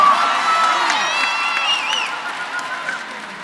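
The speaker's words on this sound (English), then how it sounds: "Please stand up and give our Lady Warriors a round of applause." At a high school graduation ceremony, the crowd claps and cheers for the Lady Warriors, Division I state runner-up champions, with whoops and shouts over loud, sustained clapping that tapers slightly.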